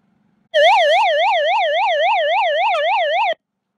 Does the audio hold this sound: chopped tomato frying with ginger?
no